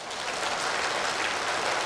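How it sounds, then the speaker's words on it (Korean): Audience applause during a Korean church sermon fills the whole stretch as a steady, dense wash of clapping, even and sustained, with no voices standing out above it. "맞으면 박수 좀 쳐봐"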